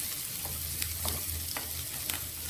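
Capsicum pieces fry in oil in a pan, with a soft, steady sizzle. A utensil stirs them now and then with light, scattered scrapes and clicks, and no one speaks.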